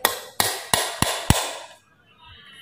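Five sharp metallic taps strike in steady succession as a hole is punched in a tin can, each ringing briefly, before everything goes quiet.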